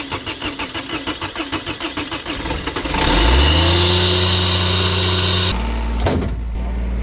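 A diesel engine is cranked after preheating, with a rapid rhythmic starter chug that catches into a loud steady idle, then a brief clunk and a drop in level near the end.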